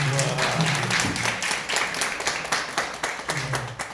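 Congregation clapping at a Korean missionary prayer meeting, a dense crowd applause that runs steadily for several seconds with scattered sharp claps, no talk over it.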